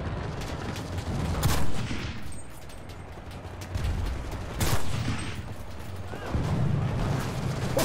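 Rapid bursts of gunfire in the video game Enlisted, Normandy invasion, rattling volleys that rise and fall in waves over a dense, noisy background.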